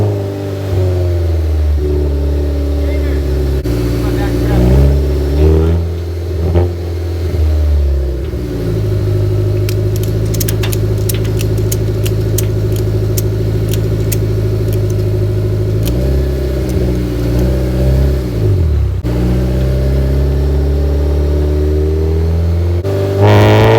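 A Honda S2000 with a Rotrex supercharger and AEM Infinity engine management runs at a high idle, a loud, steady engine drone that wavers in pitch now and then, with a brief patch of fast ticking midway.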